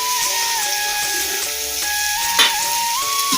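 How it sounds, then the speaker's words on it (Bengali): Bitter greens and onions are stirred as they fry in a pan, a close, steady sizzle and hiss with scraping stirs and one sharper clatter, while a faint tone hums along and nobody speaks. "তারপরে এইভাবে একটু নেড়ে নিব।"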